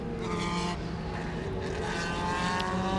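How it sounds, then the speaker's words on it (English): A Lola T70 historic sports-prototype race car runs on track during a qualifying session, its engine a sustained loud roar with shifting pitch as it drives past. "This is a Lola T70 that Ollie drives in this particular event."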